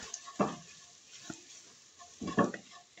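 A spoon scrapes and stirs through a pot of spicy curry-spiced rice and vegetables, giving a few soft, close scuffs with a faint sizzle underneath and no talk.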